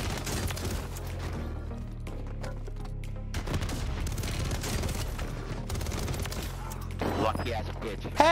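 Rapid gunfire bursts from Warzone combat, overlapping shots and mechanical clatter running throughout at moderate distance, with a player talking over the action.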